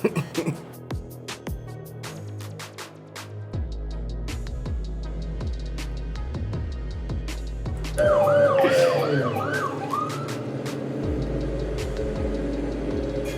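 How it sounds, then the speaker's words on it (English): A police siren wails, rising and falling in sweeping cycles, loud and close over steady road and engine noise, with a voice speaking at times. "I see the police officer cut his sirens and lights on"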